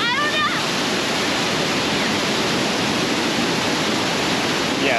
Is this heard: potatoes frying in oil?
no